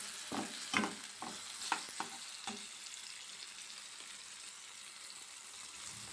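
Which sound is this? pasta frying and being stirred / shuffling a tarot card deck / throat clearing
pasta frying and being stirred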